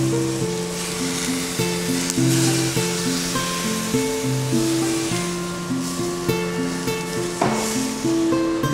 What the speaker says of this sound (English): Then we add in Guinness beer.